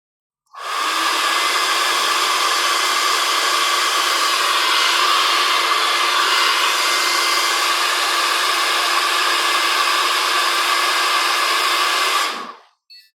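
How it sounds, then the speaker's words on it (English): A handheld hair dryer blows steadily to warm a coolant temperature sensor, a loud continuous airy whir that starts abruptly, holds an even level for about twelve seconds and then cuts off, with no talking. "Let me quickly raise the temperature with my hairdryer."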